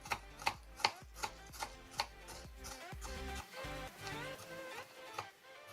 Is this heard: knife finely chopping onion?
yes